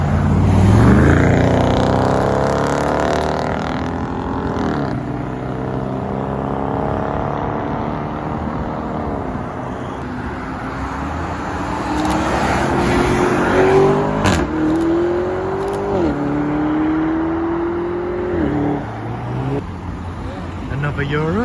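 Dodge Durango SRT Hellcat driving past at a street roadside: a loud engine note rises and falls as it accelerates by, with people talking over it.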